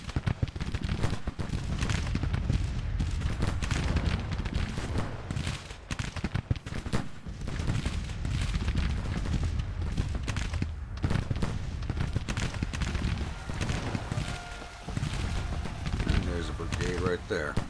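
Continuous musket volleys and booming cannon canister blasts from a Civil War strategy game rumble throughout, dense and low, while someone talks over the battle.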